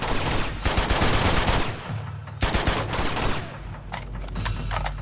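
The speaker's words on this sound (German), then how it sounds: "Erstmal die AK leerrotzen." Sustained automatic AK rifle fire in the video game Uncharted, with dense rapid bursts that pause briefly and then resume, loud and continuous, with scattered single shots near the end.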